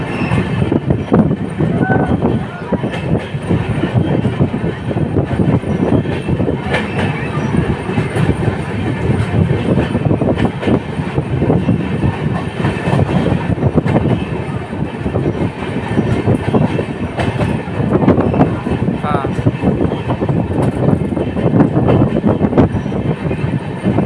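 The Saharsa Humsafar Express runs at speed with a continuous loud rumble, rattling wheel clatter and occasional squeals that carry on without a break.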